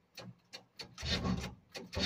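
A 1967 Chevrolet C20 pickup engine cranks over on the starter, a rhythmic rasping churn in repeated strokes that builds into a sustained grinding turn, close and fairly loud with no voices.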